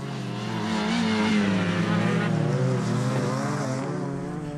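Rallycross race cars, led by a Volkswagen Golf, roar around the Montana track in 2013, engines revving hard and shifting pitch as they pass close by, loud and continuous.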